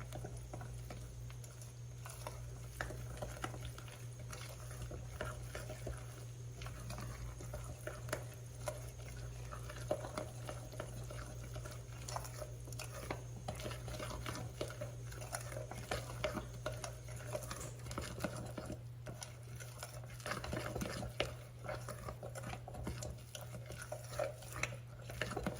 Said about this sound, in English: So we want to stir this up really good. Make sure we have no dry pockets of cornmeal.